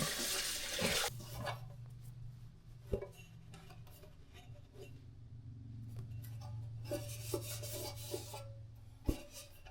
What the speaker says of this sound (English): So I just washed the bread container and the blade that needs the dough.